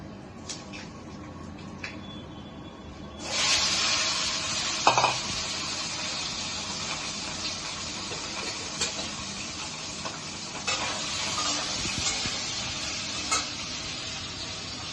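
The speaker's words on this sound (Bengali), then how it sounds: "পাপড়গুলো ভেজে নিয়েছি, এখন আলুগুলো ভেজে নেব।" Potatoes frying with fenugreek seeds in a pan for a Bengali potato papad curry, a faint hiss that bursts into a loud sizzle a few seconds in and continues steadily, with occasional clinks of a utensil against the pan.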